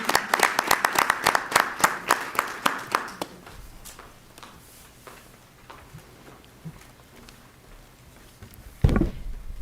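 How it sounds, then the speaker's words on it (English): Audience applause at a school board of education meeting for an educator award recipient walking to the podium: a brisk burst of many hands clapping that thins out after about three seconds into a quiet room, with a single thump near the end. "That's right, you can clap for her."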